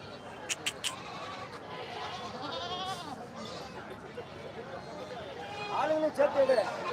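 Goats bleat repeatedly at a busy outdoor goat market at Kandachipuram, with scattered cries near and far under steady Tamil talk and crowd murmur, growing louder toward the end.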